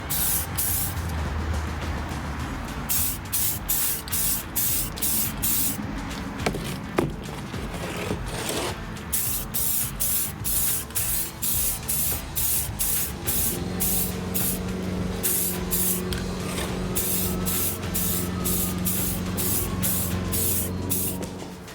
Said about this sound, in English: This is a fast drying paint. I'll try to get a second coat on here.